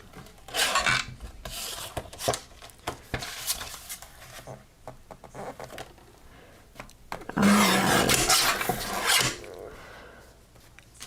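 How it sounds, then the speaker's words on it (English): Cardstock card base is cut, giving bursts of rasping, scraping strokes with brief pauses between them and a louder, longer cut near the end, close and without speech. "So let me go ahead and cut the front of that one off."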